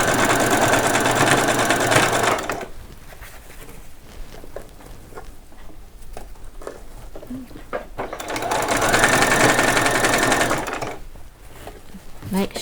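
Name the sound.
sewing machine stitching doll saree waistband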